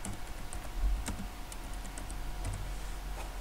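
Typing on a laptop keyboard, a steady run of light, fast clicking keystrokes at close range with a few louder taps, heard alone without talk.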